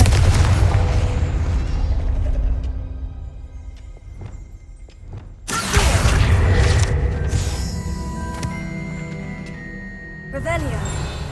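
Blasting explosions from the Confringo spell in the video game Hogwarts Legacy: a heavy booming blast rumbles and fades, a second loud burst erupts midway, and a third flares near the end, with a spoken voice over the effects.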